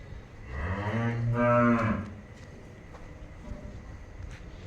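A buffalo heifer gives one deep, drawn-out low close by, lasting about a second and a half, then only quiet farmyard background remains.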